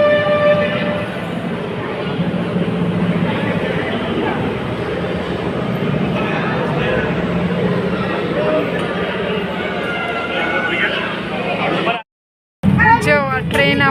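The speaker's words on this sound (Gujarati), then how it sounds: "જો આ ટ્રેન આપણી ચાલુ થઈ ગઈ છે અને જો ધીરે ધીરે ઉપર જાય છે." A train on a hill route starts moving and slowly climbs uphill, giving a continuous loud rumble and rattle with faint clinks and squeals. Voices talk over it, and it breaks off briefly near the end.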